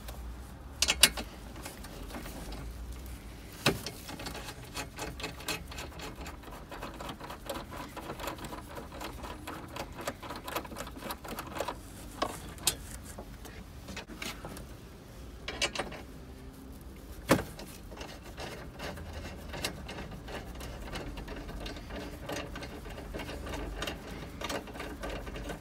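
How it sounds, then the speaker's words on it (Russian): Quiet, steady mechanical whirring with scattered small clicks and knocks as nuts and bolts are undone on the radio module of a BMW X5 E53, heard up close with no talk. "Приступаем, откручиваем."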